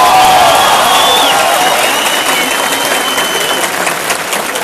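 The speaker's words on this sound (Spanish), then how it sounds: "Un aplauso para ellos." A crowd claps and cheers enthusiastically, with whistles and whoops rising over sustained applause that gradually eases.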